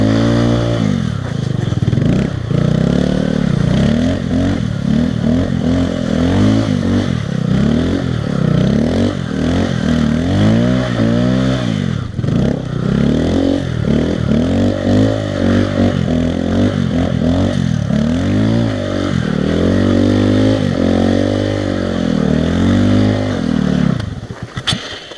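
A Honda Grom motorcycle drifts through snow in second gear, its small engine revving hard and continuously up and down with rapid pitch swings, loud and close, for the whole stretch without any talk.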